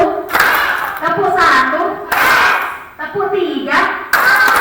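Elementary school children at an Isra' Mi'raj gathering clap in rhythmic bursts of sharp, close claps while voices chant along in a loud, lively call-and-response pattern.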